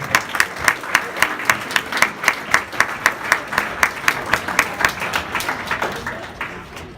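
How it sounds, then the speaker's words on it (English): Applause from an audience at a family contest event, steady individual claps forming a rhythmic patter that fades toward the end, fairly close and alone. "Big round of applause for the siblings."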